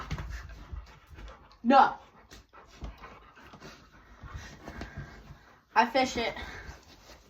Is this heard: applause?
no